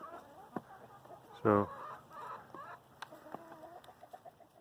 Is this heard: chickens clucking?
yes